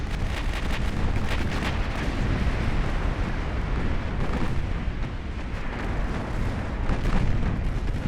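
Battleship Odin's heavy gunfire strikes an enemy ship in the naval game Ultimate Admiral: Dreadnoughts, a continuous loud rumbling roar of booms and blasts with no distinct gaps.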